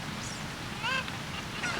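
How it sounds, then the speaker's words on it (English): A Cucco chicken in the Zelda Ocarina of Time video game clucks in a few short bursts, one clearer cry in the middle and a fainter one near the end, over continuous game background sound. "Come on, pick up the chicken."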